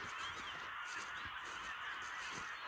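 Waterfowl honking by a nature trail, a run of repeated nasal honks from several birds at moderate distance, steady and unbroken with no talking.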